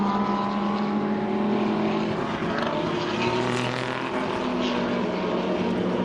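A pack of race cars including Porsches, Audis and Lamborghinis roars into turn 1 at a Killarney circuit racing festival, a dense, loud, continuous blend of engines heard from trackside.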